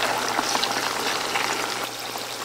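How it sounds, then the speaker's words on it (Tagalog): Food frying in hot oil, a continuous dense sizzle and bubbling that stays loud and steady throughout, with no talking. "pwede na ako magprito"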